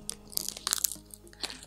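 A woven banana leaf bird toy being crunched, dry crackly snaps and crinkles in quick irregular bursts, close and fairly quiet with no voices.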